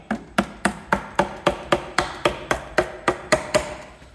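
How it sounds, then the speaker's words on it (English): A thin screwdriver is hammered into the sealant joint of a car manifold, giving a steady series of about fourteen sharp metallic taps, evenly spaced and close, each with a short ringing decay. "a little tiny thin screwdriver just to help break the seal. Hammer that in."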